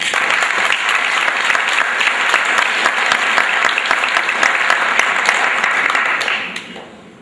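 Audience applauding at a school spring sports awards ceremony, sustained dense clapping from a large crowd in a hall that fades out at the end.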